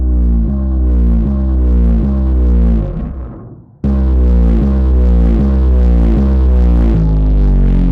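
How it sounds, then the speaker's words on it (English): A dog bark, pitched down and overdriven into a bass sound, repeats in a steady pulsing rhythm of loud, buzzy, low notes, breaks off briefly, then resumes at full strength. "the main awesome bass sound is this dog bark that I've just pitched down and overdriven"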